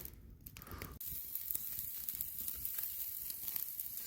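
Ribeye steaks cooking over a campfire, a steady faint crackling sizzle with small pops, preceded by a brief rustle.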